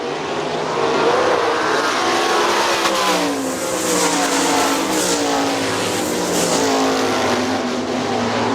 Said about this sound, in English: They go racing halfway down the backstretch.